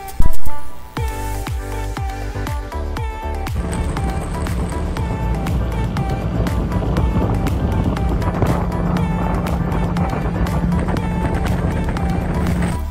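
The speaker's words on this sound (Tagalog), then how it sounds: "agad na rin umalis ang ating Roro na sinasakyan" A RoRo ferry carrying motorcycles gets under way with a loud, steady low engine drone and broadband rumble that builds after a few clattering knocks at the start.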